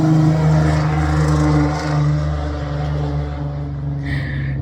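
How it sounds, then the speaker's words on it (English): A neighbor's loud truck drives by, its low engine rumble steady and close for the whole stretch, easing off slightly near the end with no voices. "my neighbor coming with a loud truck"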